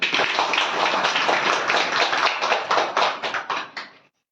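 A crowd claps continuously for several seconds, loud and close, the applause thinning into scattered claps before stopping abruptly.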